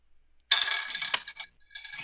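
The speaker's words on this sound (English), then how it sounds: "What if I spin the top inside the pencil sharpener?" A spinning top rattles inside a pencil sharpener, giving a bright metallic buzzing whir with a sharp clink in the middle, a brief pause, then the rattle starting again, close and fairly quiet.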